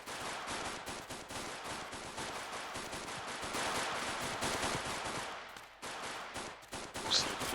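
Sustained rapid-fire gunfire from a video game, dense bursts of automatic shots with a brief dip near the end, steady and loud.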